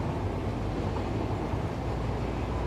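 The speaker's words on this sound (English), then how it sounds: "Come on, train, get up." Train moving in the video game Satisfactory, a dense, continuous low rumble at steady loudness with no distinct clacks, heard alone.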